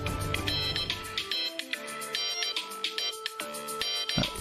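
A phone ringtone plays a repeating electronic melody of short bright tones, moderately loud and close. It loops several times without speech.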